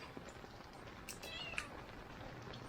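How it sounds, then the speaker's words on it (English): A cat meowing outdoors during a rainy day, one or two faint, short meows heard against steady background rain and ambient noise. "That cat is lost."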